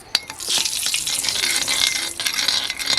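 Egg masala is stirred in a pan on a wood-fired stove, with a close, continuous sizzle and frying crackle broken by scraping stir strokes and a few sharp clicks.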